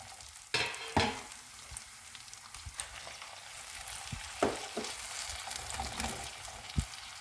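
Tomatoes tipped onto cooked onions in a pan give a loud sizzle with a few sharp clatters and stirring knocks; the frying continues steadily throughout, close up, with no talking.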